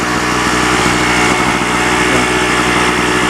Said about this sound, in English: You're basically powering with a moped engine is what you got there.